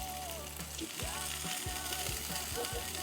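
Onions sautéing in a pan give a steady, close sizzle that runs unbroken throughout, with a few faint utensil touches and no talk.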